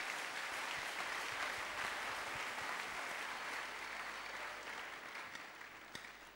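A church congregation applauds a singer during a worship service: a steady wash of many hands clapping together, fairly faint and somewhat distant, holding evenly for several seconds before easing off slightly at the end.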